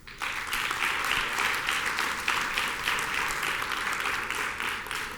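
Audience at a panel on human rights and self-defense groups gives a sustained round of dense, steady applause that stays loud and fairly close from start to finish.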